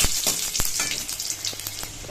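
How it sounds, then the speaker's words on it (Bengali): Dried red chilies and garlic fry in hot oil for a leafy greens dish. A close, crackling sizzle is punctuated by sharp ticks and pops over a brief stretch. "এই দেখো ভাজা কিন্তু একদম কমপ্লিট শুকনো লঙ্কা আর রসুন"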